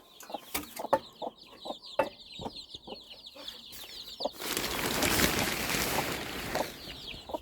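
A hen guarding her chicks clucks in short, repeated bursts at close range. About halfway through, a loud, steady rushing noise rises and largely covers the clucking.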